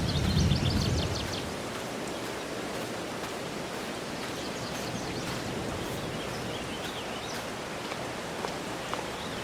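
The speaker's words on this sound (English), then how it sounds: "wait for the rain to stop" Rain falls steadily in Farming Simulator 22 as an even, soft hiss that holds through the whole stretch, with a brief low rumble at the start and no voices.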